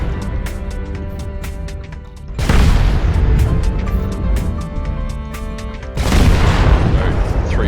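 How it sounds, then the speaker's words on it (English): Alpha strike weapons volley from a mech firing at a Centurion's left leg in MechWarrior Online, a loud booming burst of combined fire at about two and a half seconds and another at six, over steady game ambience. "Now we'll just alpha strike the Centurion left leg."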